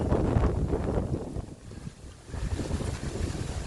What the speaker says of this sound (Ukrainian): А вітер як розсердився і перетворився на могутні вітрище, як засвисти